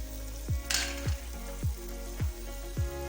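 Spices, salt, black pepper and biryani masala fry for chana pulao in a pan, giving a continuous soft sizzle. Regular stirring knocks or clanks come about twice a second, close by.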